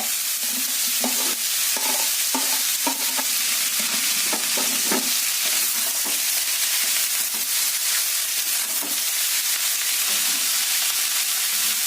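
Bottle gourd fries in a pan with a steady hiss, broken by scraping and stirring sounds from a spatula.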